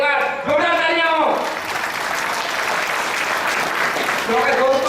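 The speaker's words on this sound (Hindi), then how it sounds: "एक बार सौमीर जी के लिए एक बार जोरदार तालियां हो" A seminar audience applauding as a loud, steady crowd clapping, with a voice speaking over it at the start and again near the end.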